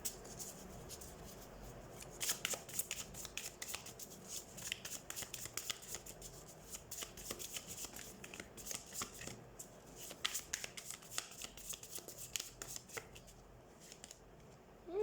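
Tarot cards being shuffled by hand, a quiet, continuous flutter of riffling card edges with irregular crisp snaps, close but faint and without talk.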